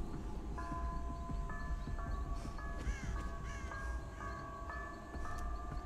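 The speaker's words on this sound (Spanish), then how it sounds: "¿Por qué suenan tanto esas campanas?" Bells in the horror game Dead by Daylight ring with sustained, overlapping metallic tones that shift step by step. The ringing is faint, under low ambient rumble and occasional crow caws.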